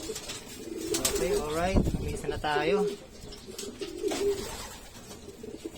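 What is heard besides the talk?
racing pigeons cooing after arriving at the loft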